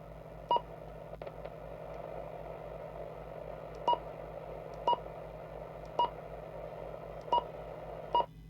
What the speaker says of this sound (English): You can switch that beep off, but handy in a car.